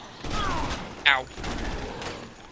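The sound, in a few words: enemy gunfire in the video game Dead Rising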